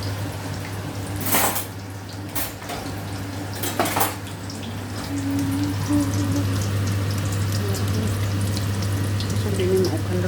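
Breaded fish fillet fries in oil with a steady, close sizzle over a constant low hum, and a few clinks of utensils early on.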